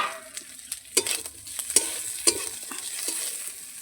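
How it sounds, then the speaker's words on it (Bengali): Shrimp sizzle in a frying pan for a bottle gourd and shrimp curry, with a steady hiss and several sharp scrapes and clatters as they are stirred, close and fairly loud. "এই যে আমার চিংড়ি মাছগুলো ভাজা হয়ে গেছে,"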